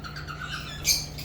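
Pet lovebird in a breeder's cage, a faint high chirp with one brighter squawk near the end over a steady low hum.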